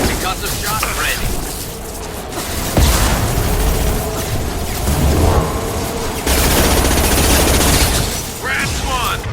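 Concussive Shot ability fired in the Mass Effect 2 video game amid loud, continuous gunfire bursts and heavy booms, with a few sharp surges standing out.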